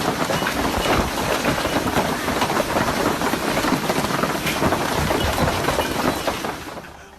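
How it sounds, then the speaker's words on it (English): A violent hailstorm battering homes and vehicles, a loud, dense, unbroken roar of pounding hail that holds steady for several seconds before easing off at the end. "a violent hailstorm battered homes and vehicles"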